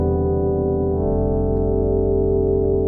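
A loud, sustained FM synthesizer tone from a Yamaha MODX8, built from two operators, rich in harmonics, with a pulsing, buzzy low end that shifts character partway through.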